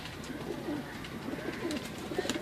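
Several pigeons coo in a backyard loft, low murmuring calls repeating steadily and overlapping at moderate volume, with faint background noise and no talking.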